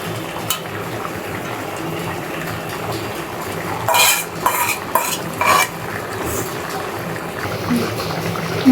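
Tilapia pieces cooking with papaya in a pan, stirred with a utensil that clinks and scrapes against the metal in bursts over a steady background sizzle, close and fairly loud.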